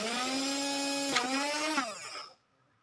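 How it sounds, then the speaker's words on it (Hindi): Homemade mini drill driven by a 12 to 24 volt DC motor with a 3 mm bit boring a hole, a steady high whine that dips briefly under load, then winds down and stops, close and alone. "तो यहाँ पे हमने 3 mm की ड्रिल बिट लगा दी इसके ऊपर।"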